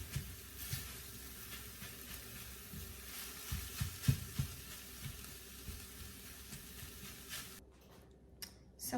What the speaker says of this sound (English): while our tofu is on the stove browning